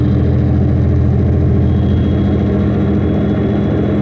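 Steady low diesel engine drone heard from inside the cab of a 2007 Century Class semi truck, a constant rumbling hum with no variation and no talking.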